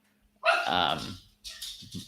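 A dog barks nearby, one long drawn-out bark or howl followed by two shorter yips, fairly loud over a quiet indoor background.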